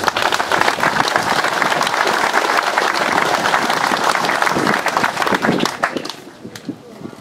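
Audience applause at a Dutch local festive gathering in Losser, a loud, dense burst of clapping that holds steady for several seconds, then thins and fades out near the end.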